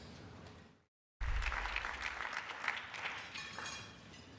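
After a brief silence, a crowd bursts into loud, sustained applause that carries on steadily to the end, at an international press freedom award ceremony.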